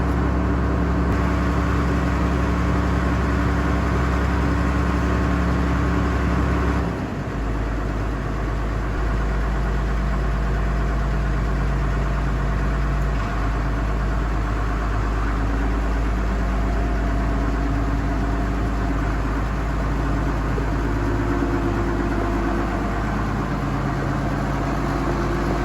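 A Case 1070 tractor engine idles steadily while warming up, a low continuous chugging that holds an even, close, moderately loud rumble throughout with no talk over it; the tone shifts slightly lower partway through.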